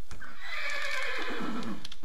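A horse in the Minecraft video game, played with a roleplay modpack, lets out a single loud, close whinny that rises and then trails off over about two seconds, with no talk over it.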